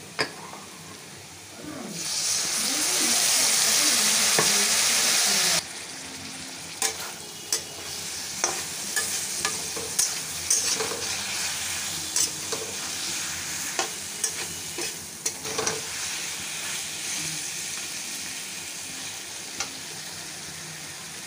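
Onion and potato fry with spices in a pan while being stirred, a continuous sizzle broken by regular sharp knocks and scrapes of the spoon, with a louder hiss burst near the start.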